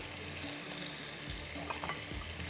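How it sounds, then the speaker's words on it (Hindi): Onion and masala sauté in a pan with a soft, continuous sizzle and a few light scrapes of stirring, fairly quiet and steady throughout with no voices. "इसको थोड़ा भूनिएगा अच्छी तरह ताकि इसकी प्याज जो वो भी मर जाए"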